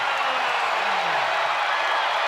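An arena crowd at a women's college basketball game roars steadily during a Utah run, a dense, unbroken wash of cheering and whooping.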